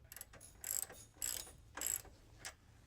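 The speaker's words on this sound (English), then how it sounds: "Only tighten the top nut until the rubber bushing flares out even with the washer." Ratchet tightening the top nut of a gas shock on a lowered GMC Sierra Sport truck, three quick bursts of close, crisp pawl clicking with a few lighter clicks between, no talking.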